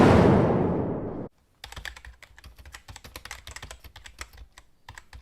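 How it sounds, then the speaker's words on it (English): Fast, steady keystrokes clatter on an Azio Retro Classic mechanical keyboard built from metal and wood, after a brief burst of broadband noise. The clicks are close and crisp and come in uneven rapid bursts, with no voices. "the Azio Retro Classic keyboard. It's a mechanical keyboard. It's made with real materials of metal and wood."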